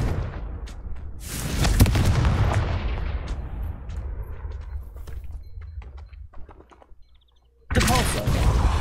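A Confringo spell erupts in a video game as a loud, booming blast that rumbles and fades over several seconds, then a second forceful burst hits after a brief near-silence.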